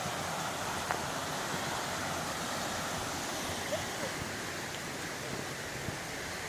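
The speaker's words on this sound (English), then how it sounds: "Another decent rapid." Creek rapids rush steadily, a dense, continuous broadband roar of flowing water, fairly close and even, with a few faint clicks on top.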